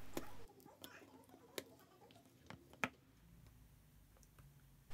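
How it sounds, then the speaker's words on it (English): Cutters snip component legs on a circuit board, giving a few sharp, quiet clicks spaced irregularly in a hushed room. "Now let's cut off the legs."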